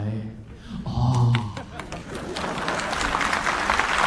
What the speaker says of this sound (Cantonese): 拍手係咪真係明啊？